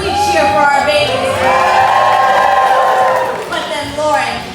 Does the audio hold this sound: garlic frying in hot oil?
no